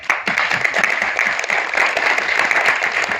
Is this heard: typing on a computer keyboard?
no